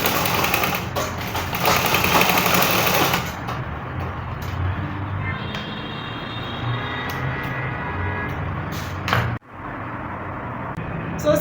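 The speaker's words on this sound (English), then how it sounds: "Then I will just sew it like a dart." A sewing machine stitches a dart into a bustier gown. A louder, harsher run at the start settles into a steady, moderate hum that continues to the end, briefly broken by a short dip. No voices.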